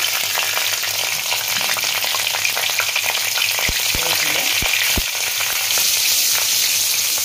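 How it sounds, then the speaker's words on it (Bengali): Nigella seeds and green chillies sizzle in hot oil with a constant bright hiss and a few sharp pops close by. "কালো জিরে দিলাম, কাঁচা লঙ্কা দিলাম ফোড়ন"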